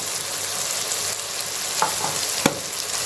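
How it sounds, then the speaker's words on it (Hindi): Masala with ginger garlic paste frying over a low flame, a steady soft sizzle with a few light stirring clicks and scrapes, close and alone. "अब इनको हल्की आग पे अच्छे तरीके से आपने मसाला जो है भूनना है जी"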